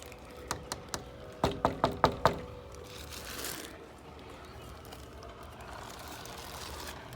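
Knuckles rap on a door in two quick bursts, three sharp knocks and then a faster run of about six, loud and close, followed by rustling and low background noise.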